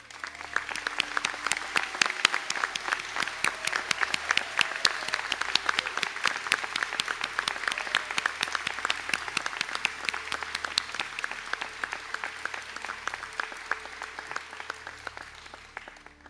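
Sustained applause from a large crowd at a college conferring ceremony, steady, dense clapping that holds for a long stretch before tapering slightly at the end.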